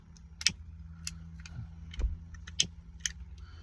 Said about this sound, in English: It has a side slide ignition. You just grip it right there and pull down.